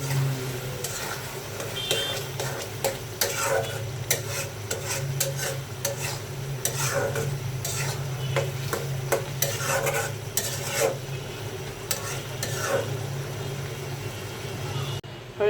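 Chickpeas frying in a pan with coriander leaves added, stirred with a utensil: a continuous soft sizzle under repeated scraping strokes against the pan, close and moderately loud.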